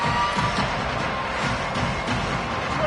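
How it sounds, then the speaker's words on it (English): A packed stadium crowd at a Texas Tech football game roars steadily, a dense, loud wall of cheering and shouting that holds without a break, with no clear speech on top. "The crowd electric, trying to help Tech on this 3rd down"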